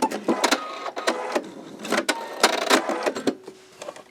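A sewing machine stitches a quilt piece in quick bursts, its needle clattering in rapid rhythmic runs with short pauses between, close and fairly loud.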